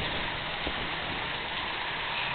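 Heavy rain pours on a flooded backyard in Yuma, making a steady, dense hiss of falling water that stays even throughout, with no voices.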